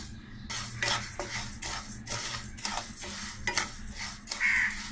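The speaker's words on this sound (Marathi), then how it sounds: "आता आपण तांदूळ जरा भाजून घेऊया।" Rice dry-roasting in a pan over medium heat, stirred with a metal spoon: rhythmic scraping strokes and light clinks repeat steadily against a quiet background, with a brief tonal squeak near the end.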